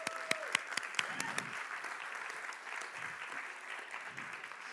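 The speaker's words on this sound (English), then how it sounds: "Let's give them a round of applause." Audience at a tech conference session breaks into applause for volunteers: a few sharp, close claps at the start, then a steady wash of clapping from the crowd.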